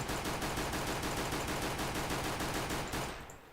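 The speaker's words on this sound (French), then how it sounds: "qui peut tirer en coup par coup ou par salve de 3 balles" Rapid Glock-18 burst fire in Counter-Strike: Global Offensive, a dense run of loud, close gunshots repeating steadily for about three seconds before cutting off and fading.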